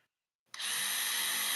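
DeWalt cordless power tool fitted with a smaller battery, quiet at first and then triggered into a sudden loud, steady high-pitched whir that runs to the end.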